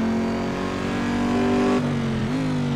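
Race car at the Le Mans circuit accelerating out of a third-gear corner, a loud steady engine drone with a clear upshift near the end and the pitch climbing again, close and continuous with no talk.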